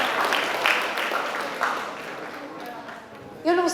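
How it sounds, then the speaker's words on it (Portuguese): A crowd at a TEDx talk applauds in a steady wash of clapping that gradually thins out, with a voice breaking in near the end. "Sim, a Carolina merece palmas"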